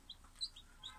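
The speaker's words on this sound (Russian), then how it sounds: "Цыплята, кстати, это пушкинские" Young Pushkin breed chicks, hatched under a Moscow Black hen with incubator help, give a few short high peeps, faint and spaced out over a quiet background.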